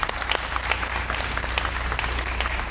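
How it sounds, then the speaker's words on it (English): Steady, dense applause from an audience at a press conference for the naming of the enmarket arena, welcoming Matt Clements; the clapping stays full and even throughout with no pause. "extending a warm round of applause for Matt"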